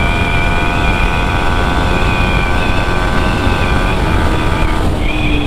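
Yamaha MT-15 motorcycle accelerating hard from standstill toward 100, a loud steady engine drone with rising tones and a gear shift near the end, close to the microphone.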